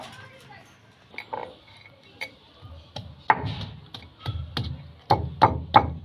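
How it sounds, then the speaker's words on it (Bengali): Boiled chalta (elephant apple), cooked with salt and turmeric, crushed on a shil-nora grinding stone. Dull knocks and thuds come sparse at first, then faster and louder, with a voice talking quietly throughout. "নুন হলুদ দিয়ে সেদ্ধ করা চালতাটা এবার শিলনোড়ার সাহায্যে থেতো করে নেব"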